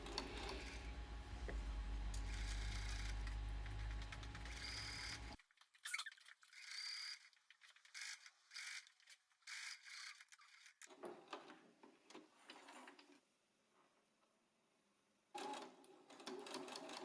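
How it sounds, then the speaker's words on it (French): A sewing machine runs a topstitch along the facing edge of a dress, starting with a loud, steady whir for about five seconds, then settling into quieter, intermittent mechanical clicking and ticking. "On effectue une couture nervure le long du bord pour maintenir en place cette parementure."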